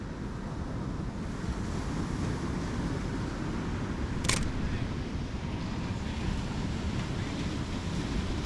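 Ocean waves washing onto a beach where surfers are out, heard as a steady, fairly loud broadband roar of surf mixed with wind buffeting the microphone, with one brief sharper crash midway.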